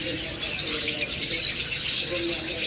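Creamino lovebirds call from their cages in a bird shop, a steady chorus of shrill chirps and tweets close by with no break.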